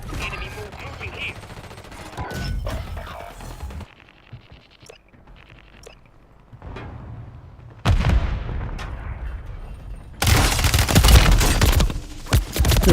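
Gunfire in the video game Call of Duty: Warzone, with dense bursts of rapid automatic shots that come in clusters and grow loudest near the end, along with a few quieter gaps and some background game noise.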